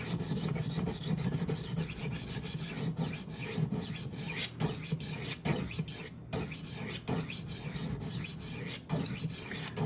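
A knife blade grinds continuously against a tumbler diamond rolling sharpener, making a close, steady rasp with brief breaks between strokes.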